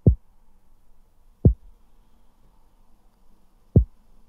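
Compressed, EQ'd lo-fi kick drum in Logic Pro X thumps three times at uneven spacing, each a deep, punchy low hit with a short decay over near silence.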